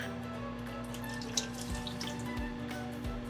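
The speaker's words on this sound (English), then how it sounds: "we're gonna pour some of that sauce down the drain" Salsa sauce is poured down a kitchen sink drain, a faint liquid trickle and splash over a steady background hum.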